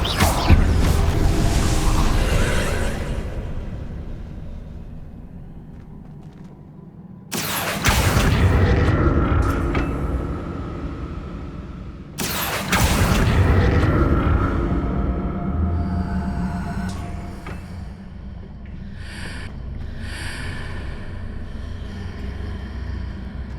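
Hogwarts Legacy video game: Confringo explosion spells land as deep booming blasts, two sharp hits with long rumbling, whooshing tails that fade over several seconds, alone without talk.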